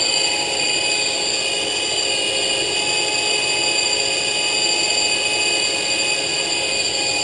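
Drilling at the edge of a sump pit makes a continuous, even machine drone with a steady whine, holding at one loudness throughout and heard alone without voices.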